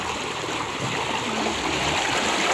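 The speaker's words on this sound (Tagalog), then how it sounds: "Napakalakas po ng tubig ng Bangbang po." A strong stream rushes in Bangbang, Nakar, as a dense, constant roar of flowing water heard close and loud with no pauses.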